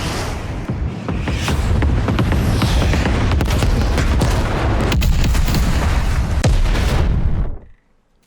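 In Call of Duty: Black Ops Cold War, a huge detonation unleashes a sustained, rumbling explosion with crackling debris and booming bursts, loud and close, before cutting abruptly to silence.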